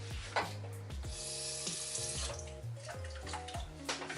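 Tap water running and trickling into a bowl of gluten-free pastry mix, a close, quiet, steady flow with small splashes and shifting pitch as the bowl fills.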